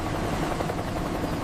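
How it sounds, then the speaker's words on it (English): A navy destroyer's anti-submarine and search-and-rescue helicopter flies with a dense, steady rotor and engine roar, loud and close, filling the whole moment without any voices. "Each destroyer carries helicopters for anti-submarine warfare and search and rescue."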